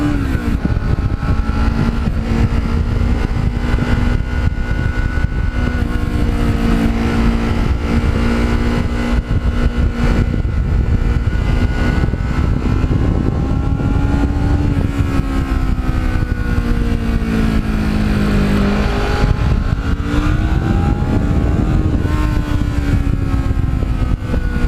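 A Kawasaki Ninja motorcycle engine runs loud and continuous nearby, its pitch rising and falling as it revs and accelerates through gears, with no speech.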